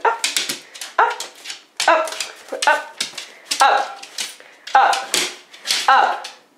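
A pet dog begging for a treat lets out repeated close, high yips and whimpers in short clustered bursts, pausing briefly between each run.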